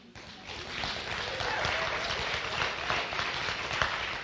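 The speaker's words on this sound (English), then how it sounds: "Please don't applaud, you're using up some of my 7 minutes" Audience applause at an urban-planning talk, a dense steady wash of many hands clapping, fairly distant and even, without voices over it.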